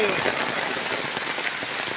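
Steady rain patters densely on a surface, a constant hiss with scattered drops, continuous throughout.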